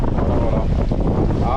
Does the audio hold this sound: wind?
yes